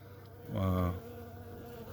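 Honeybees buzz around a new five-frame nuc hive, a close, loud droning hum swelling for about half a second over a quieter background of more buzzing.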